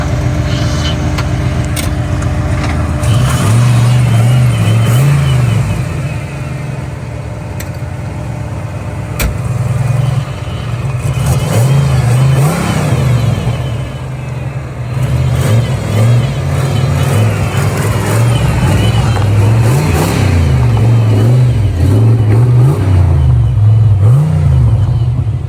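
Turbocharged 500-horsepower GT40 engine in a Mustang, breathing through a Borla Pro XS straight-through exhaust. It idles with a deep, loud burble and swells into repeated revs, with a brief lull in between.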